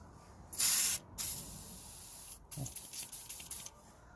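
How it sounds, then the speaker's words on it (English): WD-40 sprayed from a can onto the handbrake cable clamp of a Toyota, a close hiss in one longer burst followed by a run of short, quieter spurts. "Just gonna apply plenty of WD-40."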